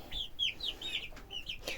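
Young chicks, about a month and twelve days old, cluck and cheep in a steady run of high, short calls, several birds close by over a low rustling farmyard background, with no talking.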